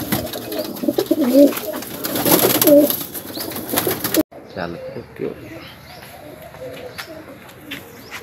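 Pigeons cooing close by after a release of racing pigeons in a village, soft repeated coos over wing noise while someone speaks briefly, then a quieter stretch.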